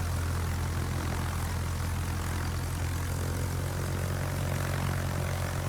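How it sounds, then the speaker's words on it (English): Rocket planes launched from a tier 8 U.S. Lexington aircraft carrier in World of Warships drone with a steady, loud propeller-engine roar that holds constant throughout, with no talking. "Rocket planes are a pretty good choice for that because they're fast."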